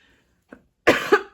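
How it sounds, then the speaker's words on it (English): A woman coughs close up: a small throat sound, then a short burst of two harsh coughs in quiet surroundings. "Excuse me for the cough"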